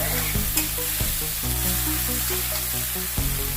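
Loud continuous sizzling of vegetables frying in oil, with occasional scraping and stirring sounds from a utensil, and no talking.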